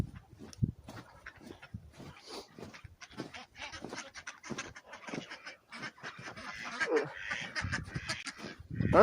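Ducks quack on a homestead kept in a temporary chicken setup, a busy run of short calls of varying loudness, some near and some farther off, with brief bits of human voice mixed in.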